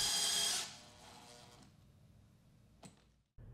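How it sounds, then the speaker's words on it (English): A power drill whirs loudly for about half a second while driving a full thread screw into a door hinge during a double entry door installation, then fades into quiet with a short knock afterward. "Replace the smooth shank screws in the top hinges with full thread screws."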